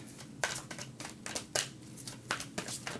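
Tarot cards riffled and shuffled by hand in a series of sharp, papery bursts, about eight quick flurries in three seconds, close and clear with no voices.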